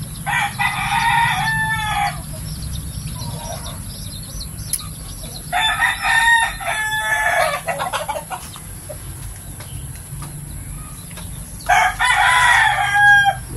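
Black McLean Sweater-line gamefowl roosters crowing in three separate bursts, one near the start, one mid-way and one at the end, with a low steady background hum between calls.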